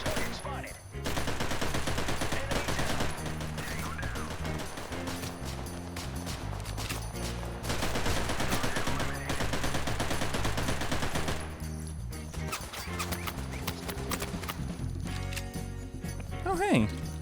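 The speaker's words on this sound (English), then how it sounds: "I might need to slightly lower the actual game volume because goddamn those gunshots" Rapid gunfire rings out in a shooter game, loud bursts of shots and automatic fire running almost continuously, with brief gaps, while a player talks over the action.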